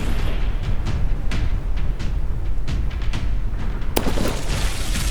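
Battleships trading fire in the naval combat game From The Depths, with a rolling series of deep booms and bursts under dense low rumble and a sharp, brighter blast near the end.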